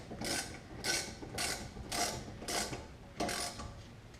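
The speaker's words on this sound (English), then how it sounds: "you might have to use a backup wrench to hold the caliper guide bolt from spinning while you tighten the bolt down" Repeated ratcheting of a hand wrench snugging down a caliper guide bolt on a Kia Spectra's rear brakes, seven or eight even, close-up clicking bursts in a steady rhythm with no talk.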